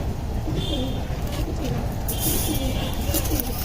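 Pet working-line pigeons cooing softly at home, low murmuring coos under steady background noise and faint voices.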